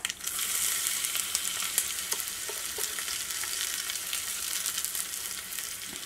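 Shallots or onion frying in hot oil with popped mustard seeds: a continuous bright sizzle with small crackles and occasional stirring scrapes, close and loud, no voices.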